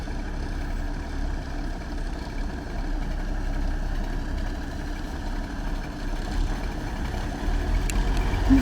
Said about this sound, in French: on va faire chauffer un peu les moteurs